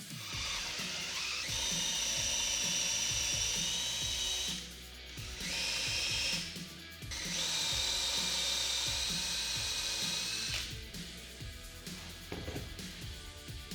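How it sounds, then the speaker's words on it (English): A power drill bores into a blue gum live-edge slab for a desk, with several loud, close bursts of high whining drilling separated by brief pauses and clattering handling noises. "I'll pop a little bit of tape on my drill bit to mark the depth, then drill down until my tape hits the slab"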